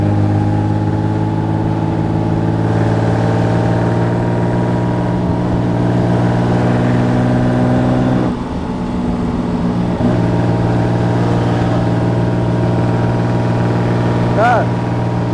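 The supercharged engine of a 1936 Wanderer W25K, with its compressor always running, drones steadily while the car is driven, a loud, sustained hum with a rising whine near the end.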